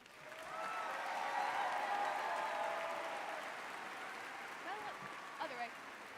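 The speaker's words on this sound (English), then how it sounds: "I'd like you all to join me in a round of applause as I award him with this medallion and welcome him to the podium" At a high school graduation ceremony, a crowd applauds a graduate receiving a medallion, with distant, sustained clapping that rises, holds and tapers as a voice speaks over it near the end.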